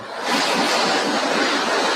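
SpaceX Starship rocket engines ignite and rumble, a loud, steady broadband roar that swells up quickly and holds without a break.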